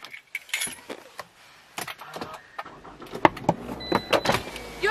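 Car keys jangle in sharp clusters alongside the whir of power windows and clicks of the car being locked, close up and uneven, with a faint low hum underneath.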